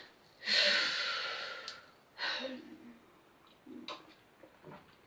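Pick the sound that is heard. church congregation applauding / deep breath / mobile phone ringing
deep breath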